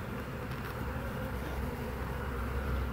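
Honey bees at a hive make a dense, continuous buzzing close by, steady and loud throughout with no voices.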